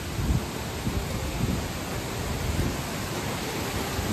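The Dudhivre waterfall near Pavananagar, swollen with heavy water, roars close by as a loud, steady, broadband rush with gusty surges and no voices.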